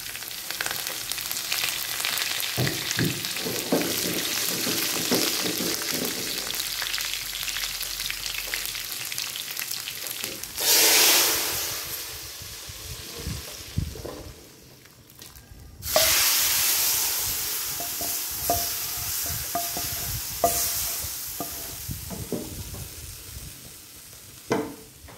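Red chili, cumin and chopped green chili sizzle in hot oil for a tadka, with a loud burst of crackling and hiss as the spices hit the pan, then a steady fry. No one speaks.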